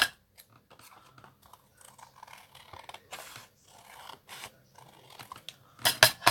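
Paper card stock being trimmed by hand for a handmade card, a run of short, quiet snips and scratchy cuts with brief pauses, ending in a few louder crisp cuts close by.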